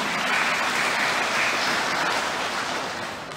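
A crowd claps hands together in a steady, dense burst of applause that stays loud throughout, easing slightly toward the end, with no talking over it.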